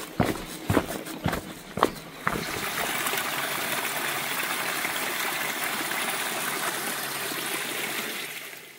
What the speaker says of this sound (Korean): 물소리가 들리는 곳을 지나니 작은 약수터가 있습니다.